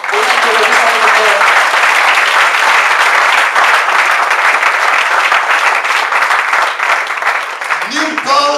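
A church congregation at a seminar in Athens, Greece bursts into loud, sustained applause and cheering for Jesus, dense clapping filling the whole stretch, with a voice rising briefly near the end.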